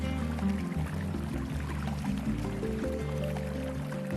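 Snowmelt streams in the Altai Mountains pour and trickle steadily, a continuous close liquid flow with a faint low drone running underneath.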